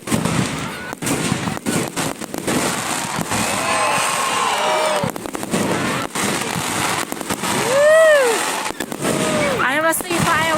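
Fireworks burst very close by at a bonfire and fireworks display, a run of loud cracks, bangs and whistling rockets with a loud climax near the end, while people talk and exclaim in the background.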